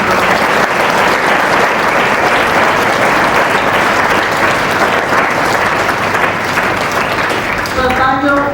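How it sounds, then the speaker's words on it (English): A large audience at a school golden jubilee celebration applauds steadily and loudly, the clapping sustained and dense throughout before thinning slightly at the very end. "I would like you all to give them a big round of applause"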